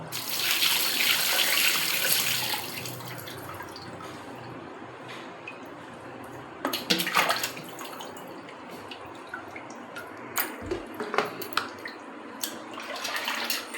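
Water runs and splashes steadily for a while, with occasional knocks and handling sounds as chicken is rinsed; no talking.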